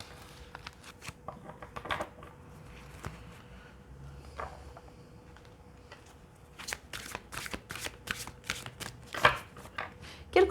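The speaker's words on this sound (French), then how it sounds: "je vais essayer un petit peu de bouger les cartes pour avoir un peu de place pour cette carte" Tarot cards are slid and shuffled on a table, giving soft, quick papery riffles and scrapes in scattered bursts, close and fairly quiet.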